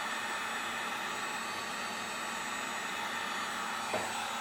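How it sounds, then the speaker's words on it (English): A Wagner heat gun running on its high setting to dry wood filler in hardwood flooring, a steady airy whoosh with a constant fan hum, one small knock near the end. "turn on my little heat gun. It's a Wagner"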